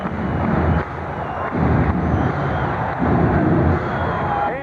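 Capacity arena crowd roaring at a 1987 Sonics vs Rockets playoff basketball game in Seattle, fans on their feet; a loud, sustained wall of cheering and crowd noise that swells and dips throughout.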